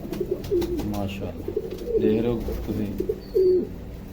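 Pigeons coo softly in a few low, repeated calls close by, heard under a man's speech; the birds are healthy pigeons eating grain and drinking water.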